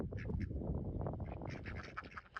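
Farm ducks quacking in a noisy cluster on a small Canadian farm, overlapping calls close by and fairly loud, with no talk.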